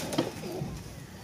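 Pigeons of the Kasoori and Teddy breeds coo softly in a short burst, a few low throaty notes at close range over a steady background hiss.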